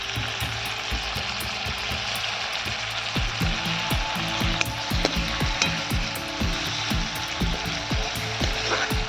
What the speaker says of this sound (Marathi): आपला कांदा छान लाल झालाय यावर टाकूया आपण कापलेले टमाटर